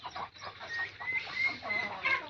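Kadaknath chickens clucking in a shed, a close, steady run of soft low clucks and murmurs with a few higher chirping notes.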